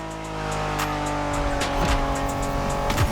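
A Honda NSX sports car driving in the racing video game The Crew Motorfest, a steady engine drone with repeated sharp tire-squeal and skid bursts, loud and up close, with no talk.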